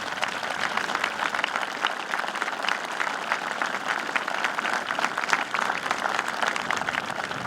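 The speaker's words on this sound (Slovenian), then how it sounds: "Prosim, pozdravimo z močnim aplavzom vse," Strong, steady applause from a ceremony audience at an outdoor peace commemoration, dense clapping sustained evenly throughout without a break.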